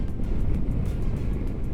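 A CFMOTO 650 GT motorcycle in sixth gear on an expressway, throttle opened slightly as it builds speed, giving a steady low engine drone mixed with wind rush, continuous and close.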